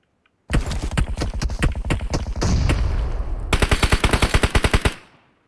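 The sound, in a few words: gunfire in video game PUBG Mobile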